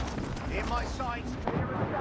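Ship mortar fire booms in a naval battle in Assassin's Creed Rogue, with dull explosive thuds and rumble mixed under steady game voices and combat noise.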